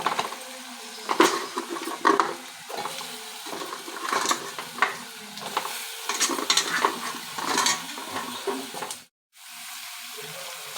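Cut drumstick pieces are stirred into onions and green chillies frying with turmeric in a pan, giving a close, constant sizzle with irregular spoon scrapes and clatters and a brief dropout near the end.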